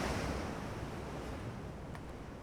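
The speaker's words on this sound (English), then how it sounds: "the water's very choppy" Choppy open-sea waves in the naval battle game Ultimate Admiral Dreadnoughts, a steady broadband wash of surf with wind rushing over it, continuous and fairly loud with no voices.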